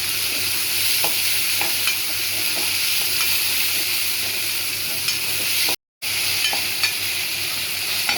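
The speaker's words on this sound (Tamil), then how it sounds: "சின்ன வெங்காயம் வதங்கிடுச்சு. இப்போ தக்காளி போட்டுக்கிறேன்." Tomatoes frying with small shallots in a pan for a mango, potato and pea kuzhambu, giving a steady, close sizzle with faint stirring clicks throughout and a brief break midway.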